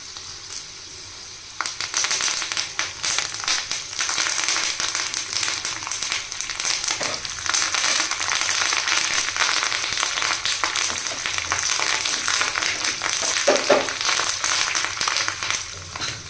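Curry leaves and other ingredients fry in hot oil, a steady dense sizzle and crackle with stirring scrapes that swells loudly after a quieter opening and holds throughout, no voices.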